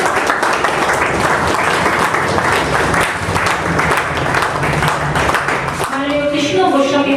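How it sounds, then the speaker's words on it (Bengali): Audience applause at an award ceremony, with sustained, dense clapping from a crowd that continues throughout at a fairly loud level. Near the end it is mixed with a voice or tonal sound. "একটু জোরে করতালি দেবেন।"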